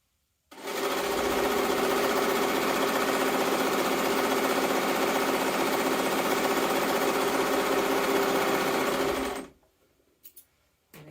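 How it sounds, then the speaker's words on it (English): A sewing machine runs steadily for about nine seconds, stitching down the edge of a Deer and Doe Sirocco jumpsuit, a close, continuous whirring hum that stops abruptly, leaving near silence. "so I've sewn all the way down one edge."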